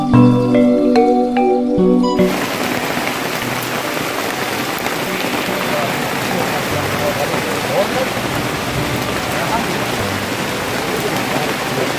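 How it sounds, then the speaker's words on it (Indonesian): After a couple of seconds of music, heavy rain pours down at a rural hut, a loud, dense, unbroken hiss and patter that carries on steadily. "Cuaca di sini hujan"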